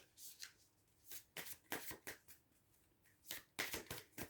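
Tarot cards being shuffled in a series of quick, crisp riffling bursts with short pauses between them, close and fairly quiet, with no talking.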